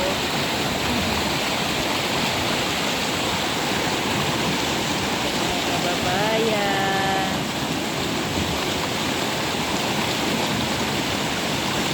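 Water in a village river where people bathe and wash laundry rushes steadily, a loud constant broadband roar like a stream or small waterfall, with a voice speaking briefly over it.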